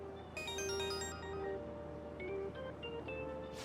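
A mobile phone ringtone plays a repeating electronic melody in Persona 5 Royal as a father's call comes in, clear and steady with a few tone sequences over several seconds.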